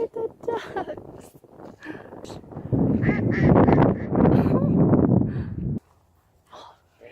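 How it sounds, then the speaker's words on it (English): Ducks on open water give a burst of loud, honking quacks at close range, with scattered shorter calls before and after and people talking nearby. "Oh, look at the ducks."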